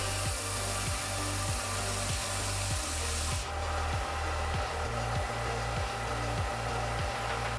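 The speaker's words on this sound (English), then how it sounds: "I took them over to my belt sander" A belt sander grinding wooden puzzle pieces into a hexagonal prism shape, a loud steady motor drone carrying a regular rhythmic thump from the belt, with the hiss of sanding thinning partway through.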